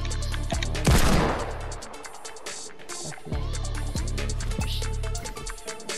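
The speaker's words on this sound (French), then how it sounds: "c'est quoi ce coup de feu?" Gunfire in a video game roleplay session, with a loud burst of shots near the start, then scattered sharp cracks and bursts at a distance over a steady background hum.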